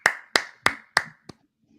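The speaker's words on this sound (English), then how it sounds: "So a big virtual round of applause to everyone." Four sharp hand claps in a steady, evenly spaced rhythm, close and fairly loud, followed by a softer fifth tap, then quiet.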